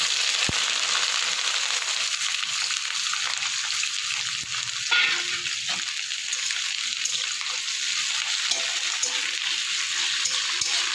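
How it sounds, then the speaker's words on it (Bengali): Onions and garlic with dried chili and whole spices frying in a pan, an even close sizzle with occasional spatula clicks and a brief louder crackle partway through, no speech. "পেঁয়াজটা আমার অনেকটা ভাজা হয়ে গেছে"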